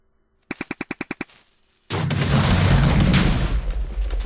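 A custom game map gunship sound, built with a wither shoot effect, fires a rapid burst of about eight sharp shots, pauses, then gives way to a loud, sustained rumbling roar.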